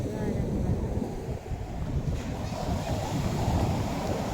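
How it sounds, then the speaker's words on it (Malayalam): Big ocean waves break and wash in a constant loud roar, mixed with heavy wind buffeting the microphone, with no clear pauses between surges. "നല്ല വലിയ തിരമാല വരണതാ"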